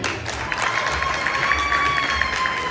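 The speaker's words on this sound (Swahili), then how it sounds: "Tumpigie makofi" A seminar audience applauds a woman called up front, with dense, steady clapping and some cheering that spread across the room at an even loudness throughout.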